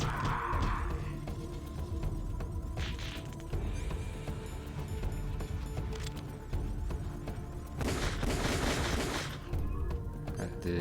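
Gunfire in the video game Metal Gear Solid: The Twin Snakes cracks out in several bursts over a dense, noisy game soundscape, with a longer heavy volley near the end.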